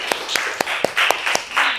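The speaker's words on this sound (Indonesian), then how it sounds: "coba dikasih tepuk tangan sekali lagi" Students in a classroom clap together in a rhythmic pattern, seven or eight sharp, near unison claps at a steady beat, with voices cheering between the later ones.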